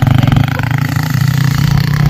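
A motorcycle being ridden along farm fields, its engine droning steadily and loudly up close with a low throbbing pulse and wind rush, and no talk over it.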